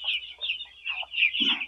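Broiler chicks in a poultry shed peeping and cheeping in a continuous close chorus, with a brief lower scuffle near the end and no voices.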